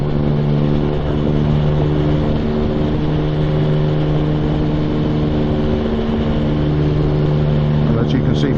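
Motorcycle pulling from 40 to 60 mph in fifth gear, a steady sustained engine drone with constant harmonic tone that holds loud and even throughout, with wind rush over it.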